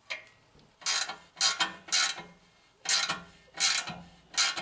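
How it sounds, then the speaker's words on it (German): Lock nut being fitted onto a steering joint on a Porsche 944, six separate bursts of bright mechanical ratcheting, each roughly half a second long, close and clear with quiet gaps between them. "danach können wir die Sicherungsmutter montieren"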